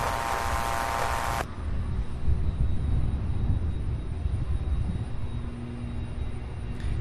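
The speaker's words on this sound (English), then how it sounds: "getting ready to land in an MD-11" UPS MD-11 heavy jet coming in to land at Louisville airport, a sustained broadband roar and low rumble after a brief burst of radio chatter.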